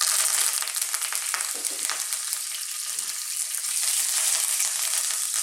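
Fresh curry leaves hit hot oil in a pan while making a chicken and coconut curry, giving a loud, continuous crackling sizzle with sharp spitting pops throughout.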